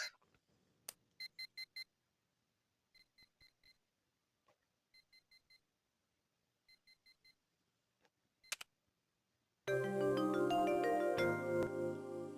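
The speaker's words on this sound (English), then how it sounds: "On the table beside my clock in my bed is a damn alarm clock." An alarm clock in the game Last Window beeps in short repeated clusters of electronic tones with gaps between them, clear and alone, before louder game music swells in at the end.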